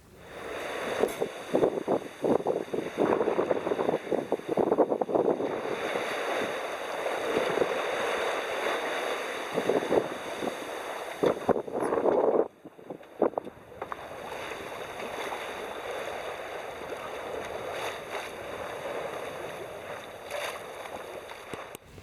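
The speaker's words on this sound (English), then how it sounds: "The wind definitely isn't constant." Gusting wind buffets a sailing boat at sea, rising and falling in strength with heavy microphone rumble, wash of water against the hull and a brief lull partway through, with no speech.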